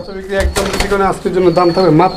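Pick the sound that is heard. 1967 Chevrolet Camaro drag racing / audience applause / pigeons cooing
pigeons cooing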